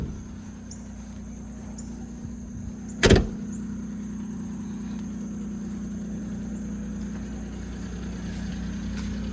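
A Mitsubishi Townbox kei van idles steadily while warming up, a low even engine hum under a thin high whine, broken once by a sharp short click or thump partway through.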